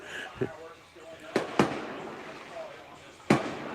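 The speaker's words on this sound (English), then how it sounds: "And the fireworks are going off." Fireworks burst over a high school football game, four sharp separate bangs spaced irregularly against an open-air background with faint voices underneath.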